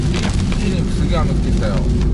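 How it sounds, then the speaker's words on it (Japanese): Heavy rain during a warning-level downpour drums steadily on a car while it drives, a dense, constant wash of noise with deep rumble underneath, close and loud throughout. "うわ、すっげー雨、今もう車もすっげーのぞってたんだ。"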